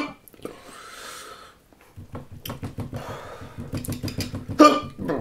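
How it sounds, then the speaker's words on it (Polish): Hiccups from a person after eating very hot sauce, a few short breathy jolts and gulps, close and fairly quiet amid heavy breathing, with one louder catch near the end. "Zaczęła się czkawka."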